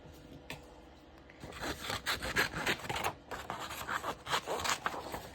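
Scissors cutting through coffee-stained paper for a zig-zag pocket tag, a steady rasping, scraping snip texture that starts softly and continues in close, repeated strokes with no talking.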